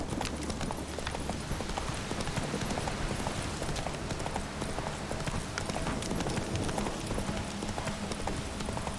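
Roach the horse trots along in The Witcher 3, steady clip-clop hoofbeats repeating in a quick, even rhythm at close range, with low background game ambience throughout.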